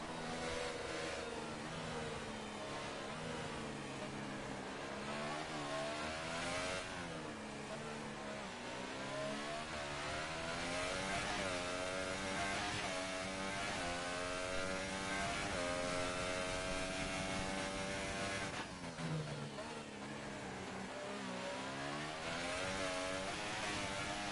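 F1 car engine in a racing game at the Chinese Grand Prix, a high-pitched whine rising and falling through gear changes as the car accelerates down the home straight, steady and continuous with no talk over it.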